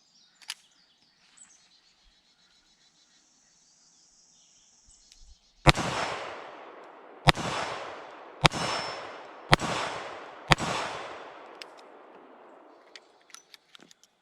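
A Ruger SP101 revolver fires Federal 158-grain .38 Special lead round-nose rounds at steel targets, five sharp, loud shots spaced about a second apart, each followed by a ringing decay, then a few faint clinks.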